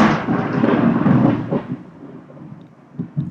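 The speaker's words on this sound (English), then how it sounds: "That's actual thunder outside." Thunder from a storm outside rolls in as a loud, deep rumble heard from indoors. It fades gradually over a few seconds, leaving a few faint thumps near the end.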